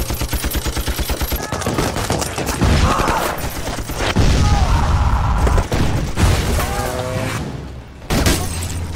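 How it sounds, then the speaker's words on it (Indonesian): Rapid gunfire from a sniper and soldiers in a battle against Iraqi troops, loud bursts and shots cracking repeatedly over a dense, busy battlefield mix with booms, lasting throughout. "langsung menembak satu persatu tentara Irak"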